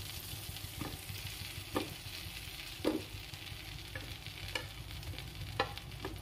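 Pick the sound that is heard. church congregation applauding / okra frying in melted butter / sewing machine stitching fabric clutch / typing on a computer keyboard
okra frying in melted butter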